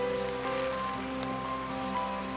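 Steady rain falling on a city street at a crossroads during a typhoon, a dense even hiss that holds for a couple of seconds with no voices over it.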